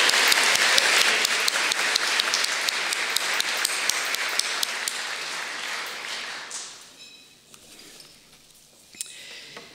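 Applause from a crowd, steady and full for several seconds, then thinning out to a few scattered claps before fading.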